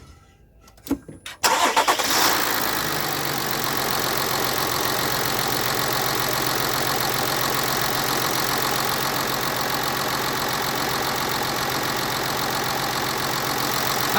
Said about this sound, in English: So I'm gonna start up the engine.